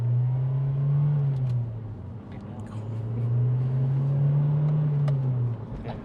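A Honda Civic Type R EP3 accelerates with a steady engine drone that climbs in pitch, eases off, then rises again, heard from inside the cabin with faint road rumble underneath.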